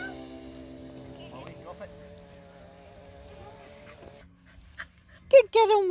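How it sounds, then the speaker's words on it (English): A dog playing fetch with a stick on a walk pants and whimpers faintly under a steady high electronic tone, followed by a few louder, sharper bursts near the end. "On the dog's last walk and Molly's having fun playing fetch with a stick"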